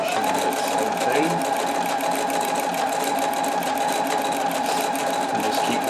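Sewing machine running steadily as it stitches decorative patterns into a shirt, a continuous close whirring hum with fast mechanical chatter throughout.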